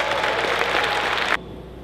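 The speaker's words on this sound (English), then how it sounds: "Let's give them a big round of applause." An audience at a Friendsgiving event for service members and families claps in a dense burst of applause that stops abruptly after just over a second.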